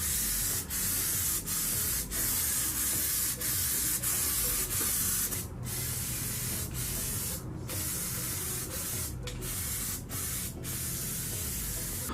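Spray gun steadily applying undercoating to the bed of a 1965 Jeep CJ5 during restoration, a continuous loud hissing rush that runs almost without break, with a few short gaps where the trigger is released.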